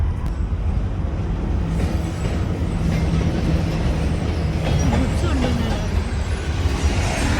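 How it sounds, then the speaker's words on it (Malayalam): A freight train rumbling past in rural Georgia near Tbilisi, loud and close with a continuous low roar and faint wheel clatter, while people talk over it. "ഇവിടുത്തെ ഗുഡ്സ് ട്രെയിനാണെന്ന് തോന്നുന്നു ഇപ്പോൾ പോയത്."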